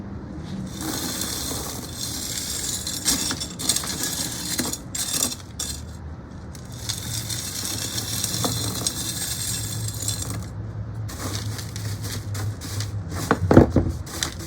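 A spoon scoops pumice into a pond basket while a Japanese zelkova is repotted, giving gritty scraping and rattling pours in repeated bursts, with clinks and shuffling between scoops.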